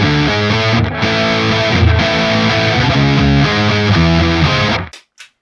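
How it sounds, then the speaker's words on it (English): An electric guitar runs through a whammy pedal set an octave down, playing thick, distorted single-note lines with a deep doubled tone, loud and continuous, before cutting off abruptly near the end. "With the whammy it should sound like this,"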